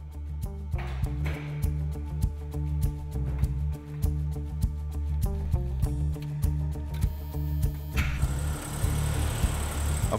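An AMC Pacer classic car's engine runs steadily through the whole stretch, a low mid-pitched hum with faint rhythmic pulses, close and alone without talk, before the sound opens up brighter near the end as it pulls away on a test drive.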